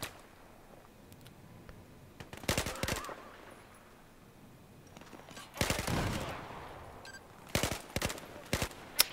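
Bursts of rapid gunfire in the video game Battlefield 4 ring out in a few sharp volleys, separated by quieter stretches with faint background noise.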